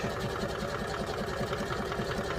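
Sewing machine running steadily at speed as it stitches a wide seam attaching elastic waistband trim on wrestling shorts, with a continuous rapid mechanical chatter close up.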